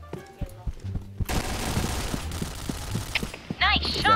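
Gunfire in the online shooter Point Blank cracks out in sharp bursts and single shots over a low hum, with players' voices chattering alongside.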